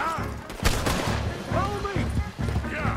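Gunfire in the video game Red Dead Redemption 2: a gunfight of repeated shots mixed with shouted voices, music and game action, the shots fairly loud among the other sounds.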